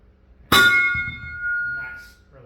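A loud metallic clang from two painted kettlebells knocking together, ringing with a bright sustained tone that fades over about two seconds, followed by faint murmuring.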